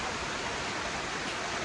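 Cascade Falls roars as a loud, steady waterfall, a dense unbroken rush of water heard close by with no other sounds.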